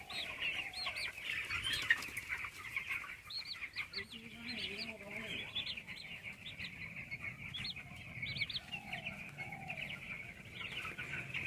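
Broiler chicks on a poultry farm peep and cluck continuously at moderate distance, a steady chorus of high calls with some lower clucks mixed in throughout.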